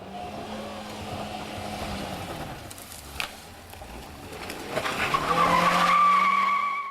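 A pickup truck takes a risky alternative route around a dangerous roadside spot; its engine strains and tires scrape and skid on loose ground, swelling louder toward the end, with birds chirping faintly.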